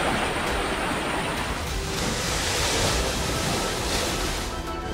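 Floodwater rushing hard during heavy monsoon rain in coastal Mangaluru, a loud continuous broadband roar that stays steady throughout with no voices.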